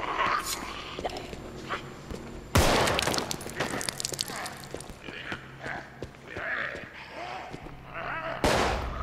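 Colt 1911 pistol shots in the multiplayer video game Contagion, with two sharp loud bangs several seconds apart among smaller clicks and footstep-like taps, and a voice talking quietly in between.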